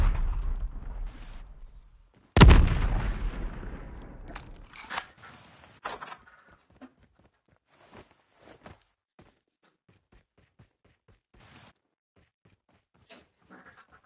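A sharp, loud sniper rifle shot in a Call of Duty Black Ops-style video game rings out and decays, followed by faint scattered footsteps and distant gunfire with quiet background.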